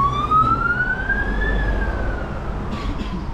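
An ambulance siren passes a roadside motorcycle shop in Matunggang, Kudat, its wail rising and then falling away over a constant low rumble of road traffic, loud and close.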